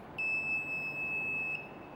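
A multimeter in continuity test mode gives one steady, high electronic buzzer tone lasting about a second and a half, fairly quiet and with no talk.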